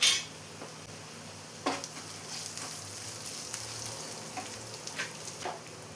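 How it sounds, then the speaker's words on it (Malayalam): Chopped shallots and dried red chillies fry gently in a pan for a prawn dish, giving a soft, steady sizzle close by, broken by a few light clinks of a utensil against the pan. "ഇപ്പോൾ ചുവന്നുള്ളി ഉണക്കമുളകെല്ലാം ഒന്ന് ചെറുതായി ഫ്രൈ ആയി വന്നിട്ടുണ്ട്"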